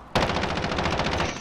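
Automatic gunfire in Call of Duty: Modern Warfare erupts as one loud, close burst of rapid, evenly spaced shots that hammer on for over a second before tailing off.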